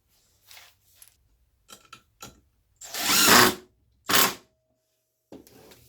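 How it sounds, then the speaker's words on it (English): Power drill driving the first screw into slide-out shelving: several short ratcheting bursts of the drill, then a longer whirring run and another burst, close and separated by quiet gaps, no talking. "line it up with this front one, put in my first screw"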